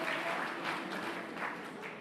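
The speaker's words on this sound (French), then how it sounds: "Vous pouvez aussi l'applaudir pour ça" A crowd at a French climate mobilisation rally applauds, continuous dense clapping at moderate distance with gentle swells and no speech over it.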